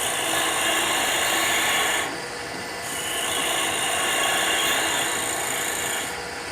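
Bowl gouge shear cutting a maple chalice spinning on a lathe gives a continuous loud, hissing scrape close up, easing briefly and then building again.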